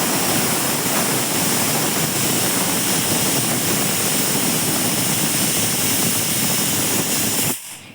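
A pressure cooker cooking dal lets off a loud, sustained steam hiss close by, steady for several seconds before cutting off abruptly near the end.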